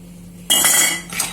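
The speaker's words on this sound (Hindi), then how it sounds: "अच्छी तरह से मिक्स कर लेते हैं।" Roasted almonds and cashews are tossed with black pepper, black salt and red chili in a bowl, making a sharp metallic clink of a spoon against the dish. A rattling scrape follows, with a second fainter clink just after.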